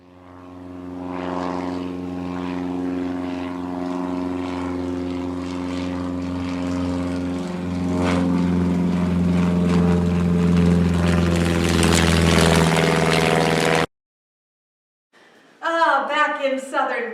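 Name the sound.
propeller airplane flying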